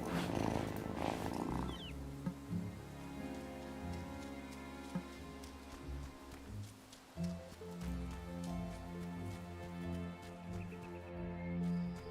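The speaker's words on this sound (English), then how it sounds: "listen to that purr." A cat purrs in the video game Wylde Flowers, a soft, continuous low rumble that runs steadily under light rain-like ambience, with no voices.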